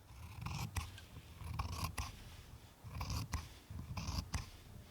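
Scissors trim a fabric seam allowance in several close bursts of crisp snipping, each run of cuts separated by short pauses, quiet and alone without talk.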